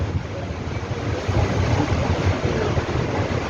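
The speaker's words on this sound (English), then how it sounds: "look at the tide rushing around the abutments" The tidal River Thames in London rushes around bridge abutments as a steady broadband wash of turbulent water. It is heard from a passing boat, with some wind noise and no talking.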